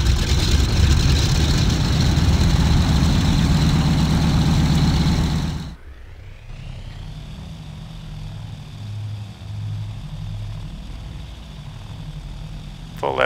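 A C-47 aircraft engine in the Aces High 2 game roars loudly for several seconds, then cuts abruptly to a lower, steady idling rumble with a soft rhythmic throb.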